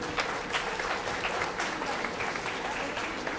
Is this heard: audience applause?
yes